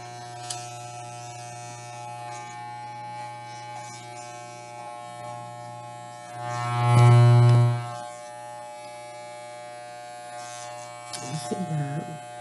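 Electric clippers buzz steadily and close while shaving the paws of a tiny four-pound Shih Tzu Poodle, the motor note swelling louder midway as the blade presses in, with a brief voice near the end.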